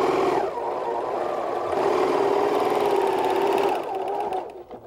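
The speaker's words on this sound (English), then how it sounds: "Reposition and sew again." A sewing machine stitches insertion lace onto a piece of trim, running in a steady, fast, continuous whir with a brief change in pace partway through, close and clear, with no talking.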